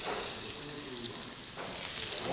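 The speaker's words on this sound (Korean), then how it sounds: "찹쌀가루에 묻힌 이 양념 고기를 맛있게 튀기고 있습니다" Marinated meat coated in glutinous rice flour fries in a pan during a cooking class, giving a steady, fairly loud broadband sizzle that swells near the end, with no talk over it.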